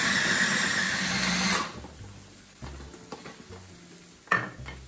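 Pesto being ground with cheese and freshly squeezed lemon juice in a food processor or blender: a loud, steady whirring grind for about a second and a half, then stopping, followed by quieter scattered clunks and scraping.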